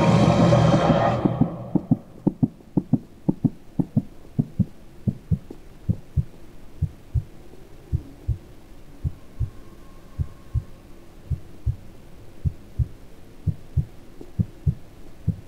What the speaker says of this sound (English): Nope, my heartbeat's getting up, back up again.